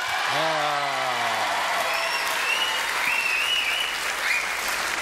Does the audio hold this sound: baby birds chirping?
no